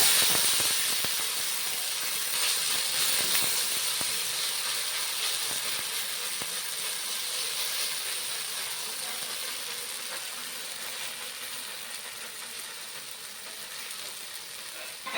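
Cabbage pitha batter sizzles loudly in hot mustard oil on a griddle, giving a steady, close, bright hiss that fades slightly over fifteen seconds, with occasional faint clicks and no talking.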